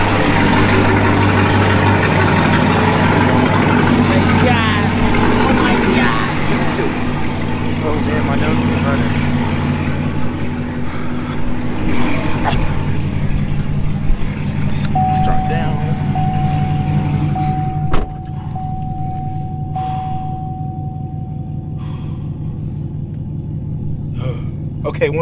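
A modded Chevrolet Camaro ZL1 rumbles loud and deep at idle in snowy conditions, a steady low engine drone that eases slightly near the end, with a voice talking over it.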